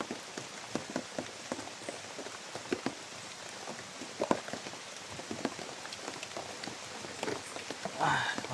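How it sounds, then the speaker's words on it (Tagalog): Heavy rain falling steadily, a dense close patter of drops striking surfaces with scattered louder splats, and faint voices underneath. "Ang tigil ang ulan guys."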